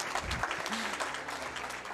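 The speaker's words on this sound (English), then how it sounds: "A round of applause." Audience applause at a speedrunning marathon event, sustained clapping from a crowd under a nearby voice.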